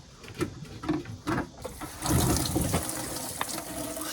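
Old gasoline pours out of the tank of a barn-find Porsche 944 Turbo, a steady liquid gush and splash that starts after a few faint knocks and runs continuously to the end.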